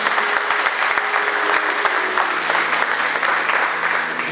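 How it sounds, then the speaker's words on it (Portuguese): A congregation at a church service applauds, a dense, sustained roar of many hands clapping with a little crowd murmur, steady and full throughout. "Eu sei que você aplaudiu o nome do Senhor"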